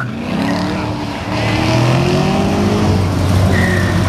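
A 1968 Mopar GTX 440 muscle car engine revs loudly and close, its pitch climbing and falling in sweeps as the throttle opens, then the roar swells further. No voices are heard.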